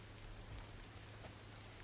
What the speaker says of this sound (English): It's raining. Nobody likes being out in the rain.